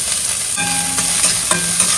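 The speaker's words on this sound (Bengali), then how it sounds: "কড়াইয়ের মধ্যে একটু তেল দিয়েছিলাম, সেই যে একটা পেঁয়াজ ভেজে নিচ্ছি।" An onion frying in a little oil in a wok (kadai), giving a close, continuous sizzle with a few stirring clinks and scrapes over two seconds, with no voices.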